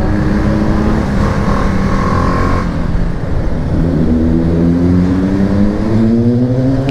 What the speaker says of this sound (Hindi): इस पूरे लाइनअप की one of the loudest bike है ये जिक्सर आर है